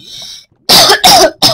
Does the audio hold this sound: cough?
yes